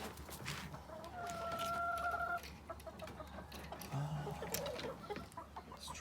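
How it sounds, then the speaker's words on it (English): Laying hens on a homestead farm cluck and call close by, with one drawn-out squawk and a few shorter calls over a low background hum. "Right across, I have my laying hens."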